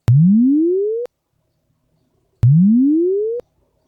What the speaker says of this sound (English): So it's going from the low frequency to the high frequency